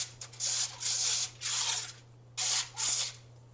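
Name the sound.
non-stick cooking oil spray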